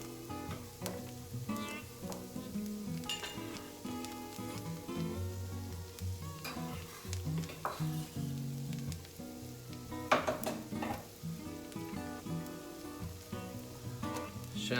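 Celery sautéing in a quarter pound of butter for crab cakes sizzles steadily for the whole stretch, with scattered clinks and utensil knocks over a busy kitchen background.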